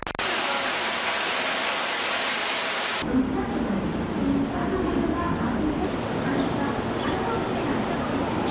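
Heavy rain pours down in Hyderabad, a steady broadband hiss of downpour that drops in level partway through, continuous throughout with no voices.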